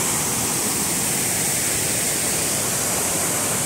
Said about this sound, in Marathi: धबधब्याचा आवाज पण इथपर्यंत येतोय